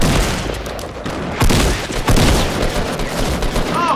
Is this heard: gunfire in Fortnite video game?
yes